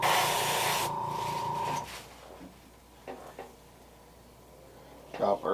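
An airbrush hisses for about two seconds as it lays a second coat of paint on a custom-painted fishing lure. Quieter handling clicks and taps follow.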